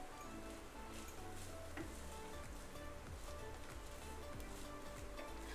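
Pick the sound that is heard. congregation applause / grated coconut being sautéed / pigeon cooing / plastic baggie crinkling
grated coconut being sautéed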